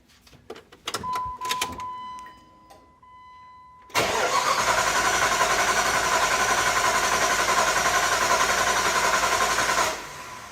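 A Jeep WJ engine, just reassembled after a timing chain repair, cranks with a few short bursts and a steady whine, then turns over continuously for several seconds before stopping, close and fairly loud.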